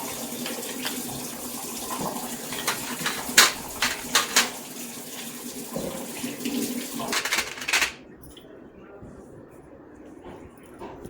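Brass idols being rinsed clean of soapnut water under a running tap, a steady broadband splash with a few sharper clunks and knocks of metal, ending in quieter room tone.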